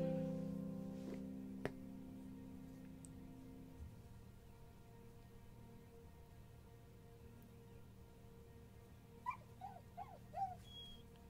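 Dog whimpering in the Moonglow Bay fishing game, a few short, high whines near the end following a low steady tone at the start, quiet against a faint ambient background.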